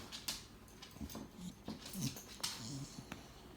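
A small dog whimpers and snorts in short, breathy bursts close by, with soft whines scattered through a quiet indoor room.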